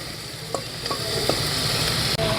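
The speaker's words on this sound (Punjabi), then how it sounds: "ਤੇ ਬਿਲਕੁਲ ਹਲਕਾ ਜਿਹਾ ਮਿਕਸ ਕਰਦੇ ਹੋਏ ਬਸ ਅੱਧਾ ਮਿੰਟ ਹੀ ਆਪਾਂ ਫੁੱਲ ਫਲੇਮ ਤੇ ਪੱਤਾ ਗੋਭੀ ਨੂੰ ਪਕਾਵਾਂਗੇ" Cabbage, vegetables and homemade flour noodles frying over full flame while being stirred in a pan, a steady close sizzle broken by a few soft scrapes and knocks of the spoon, with no talking.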